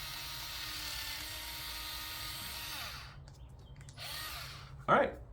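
A Ryobi 4-volt power cutter slices through four layers of cheap carpet, giving a steady, close whirring buzz for about three seconds that cuts off abruptly, followed by quieter handling noise and a brief louder knock near the end.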